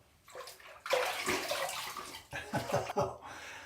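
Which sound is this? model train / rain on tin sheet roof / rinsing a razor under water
rinsing a razor under water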